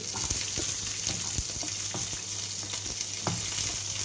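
Onion, green chili and ginger sauté in hot oil in a pan with curry leaves, giving a steady close sizzle broken by the scraping taps of a spoon stirring.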